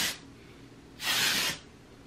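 Moroccanoil Dry Texture Spray misted onto hair from an aerosol can, two hissing bursts, a short one followed by a longer, louder one lasting about half a second.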